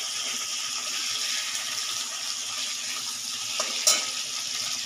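Hilsa fish head frying in hot oil in a home kitchen, a steady close hiss and sizzle running unbroken throughout, with one brief clatter near the end.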